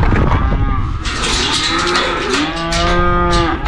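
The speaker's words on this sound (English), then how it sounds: "we now have 5 beautiful Scottish Highland cattle and hopefully some Scottish Highland calves soon" Several Scottish Highland cattle low and moo loudly and close by, long overlapping calls with rising and falling tones over a steady farmyard background, with no talking.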